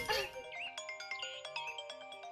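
Mobile phone ringtone playing a short repeating electronic melody of bright tones, moderately quiet and alone in a domestic scene from a Bengali TV serial.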